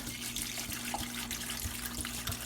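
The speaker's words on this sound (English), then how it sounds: "once all this is in the pot, we're going to cover with filtered water" Filtered water pours steadily into a pot of bones for bone broth, a continuous close splashing rush with a faint steady hum underneath and no voices.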